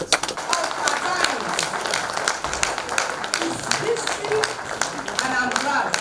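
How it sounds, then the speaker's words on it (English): Audience giving a standing ovation for a commission chairman at a population commission event, with steady dense clapping throughout and a voice speaking over it. "with a standing ovation for the chairman of the commission, Nasir Kwarra"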